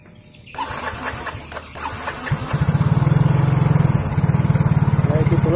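Yamaha X-Ride injection motorcycle, an old and neglected bike, starts after a brief cranking whir and catches into a loud, close, rapid idle that keeps running steadily.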